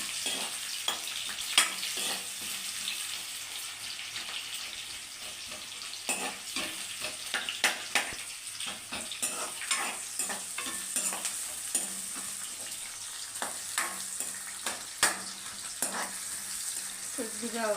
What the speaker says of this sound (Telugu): కొద్దిగా ఉల్లిపాయలు ఎర్ర కలర్లో రావాలా.